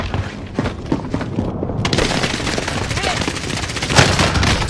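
Gunfire from the video game Warzone, including the Hauer 77 shotgun, with dense, loud, continuous shots and booms layered over one another. Voices talk throughout.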